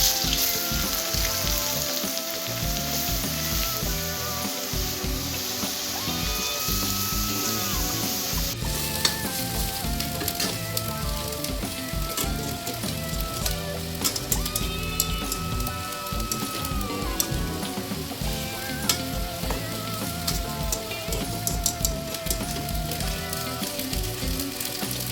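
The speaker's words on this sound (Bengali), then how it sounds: "আর এর মধ্যে অল্প অল্প করে আলু দিয়ে দেবো" Shredded potatoes deep-frying in hot oil, added a little at a time for crisp jhuri aloo bhaja, give a steady, dense sizzling crackle throughout, with music playing underneath.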